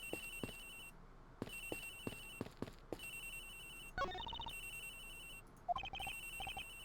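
Repeated electronic ringing of an agent's phone in the video game Ace Attorney Investigations, bursts of trilling rings recurring steadily, followed by short chiming game sound effects near the end.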